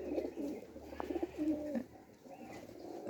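Domestic pigeons give a clear, close, rhythmic low cooing over a faint background hiss, with a few soft chirps and no talk.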